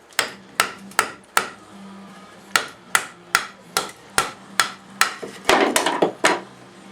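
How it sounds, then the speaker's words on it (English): A TOPS Iraq-Jac knife is driven through wood with a small wooden baton: a steady series of about a dozen sharp, loud, close strikes, each with a short woody ring, coming roughly every half second. "This acts like a wedge. Look at that. That's pretty cool. And we're using just a little wimpy baton right now."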